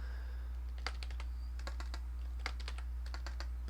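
Typing on a computer keyboard while writing C# code in Visual Studio: several quick clusters of close, crisp key taps separated by short pauses over a steady low hum.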